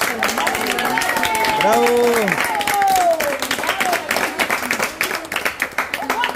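Scattered clapping from a small group at a family gift opening, brief and uneven, with loud excited voices calling out and talking over it throughout.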